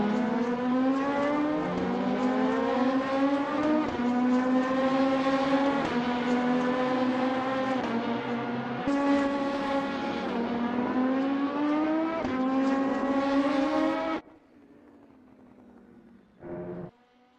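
Race cars scream across the finish line at Interlagos in a racing video game, engines wailing loudly and steadily, then cutting off abruptly to near silence, followed by one brief faint engine burst.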